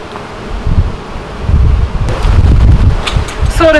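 A dense, low buzzing hum of many honeybees reacting to smoke, steady and close, with some rustling and a few higher whining tones near the end.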